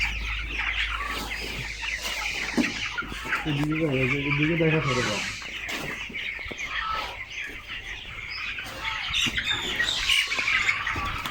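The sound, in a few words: broiler chickens clucking in a poultry farm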